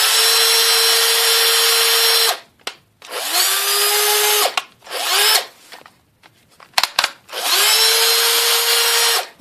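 A cordless drill revs in loud bursts, spinning up, running a couple of seconds, then stopping, four times with short silent gaps between.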